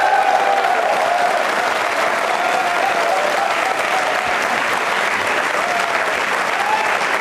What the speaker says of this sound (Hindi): तालियां बजाइए अपने लिए आप जोरदार तरीके से।